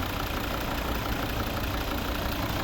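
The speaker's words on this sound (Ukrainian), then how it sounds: "п'ятициліндровий рідний е, вольвовський, вольвовської розробки двигун" A 2013 Volvo V60 R-Design with a 2.0-litre D3 five-cylinder diesel idles steadily, a continuous low rumble held close and even throughout with no voices.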